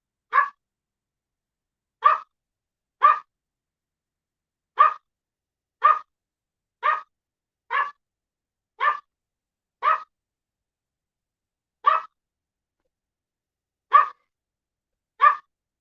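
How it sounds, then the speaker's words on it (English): Dogs bark in short single woofs spaced about a second or two apart, a dozen in all, clear against near silence. "I'll let you dogs run out so you don't drive me crazy with all the barking"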